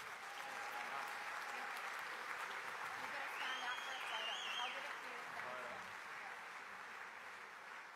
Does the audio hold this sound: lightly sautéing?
no